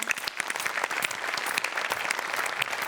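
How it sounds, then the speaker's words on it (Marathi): Studio audience applause for comedy performers on a Marathi comedy show, a dense burst of many hands clapping with no talk over it, continuing for the whole few seconds. "एकदा सगळ्यांकरता टाळ्या होऊन जाऊ दे."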